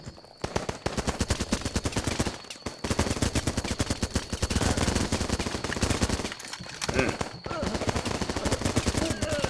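Rapid automatic gunfire in the video game Running With Rifles, loud and sustained bursts of shots crackling almost continuously with brief pauses, close to the player.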